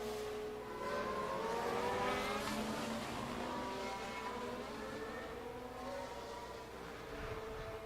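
Race car engines from the racing video game at Las Vegas rev and whine, pitches sliding up and down as cars accelerate in the rain, loud and continuous with no talking.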